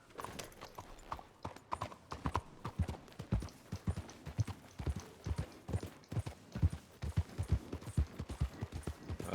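Rhythmic clip-clop of horse hooves at a steady trot in Red Dead Redemption 2, close and fairly quiet, with a few faint other sounds behind it.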